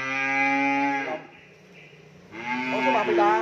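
Cattle on a cattle farm in Mỏ Cày Bắc moo loudly in two long, close, harmonic calls separated by a brief quiet gap, with no talking over them.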